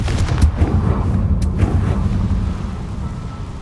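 A Confringo blasting spell in Hogwarts Legacy goes off in a series of booming, thunderous blasts with sharp cracks, loud and close over a heavy low rumble.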